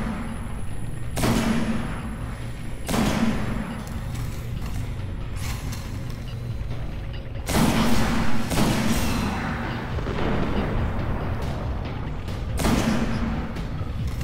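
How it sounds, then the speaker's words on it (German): Sniper-clearing gunshots in Destiny's Crota raid on hard mode: sharp, loud broadband cracks spaced several seconds apart over a steady mechanical game ambience, without talking. "ich schieße jetzt hier erstmal die Sniper ab"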